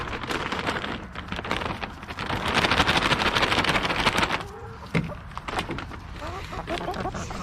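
Backyard hens cluck and chatter while being given treats, a busy mix of close clucks and scratchy rustling, with a brief louder burst of activity midway.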